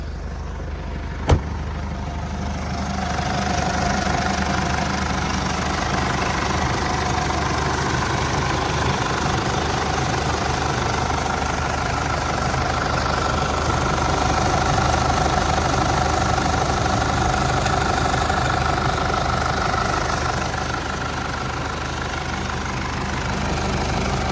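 A 2012 Isuzu MU-7 3.0 turbo diesel engine idles steadily and close by, a low, even rumble with a faint clattering knock that holds for the whole stretch.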